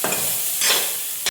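Green chillies and black pepper sizzle loudly in a pan as they are stirred, with a few quick scraping strokes in a brief burst that ends abruptly.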